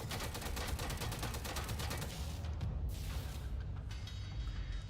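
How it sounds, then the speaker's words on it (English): A stim gun fires in a video game trailer, rapid repeated bursts in a fast rhythmic stream, loud and dense, with a rumbling mechanical undertone and no talking. "Oh hey, it was a stim gun."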